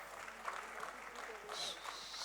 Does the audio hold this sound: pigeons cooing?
no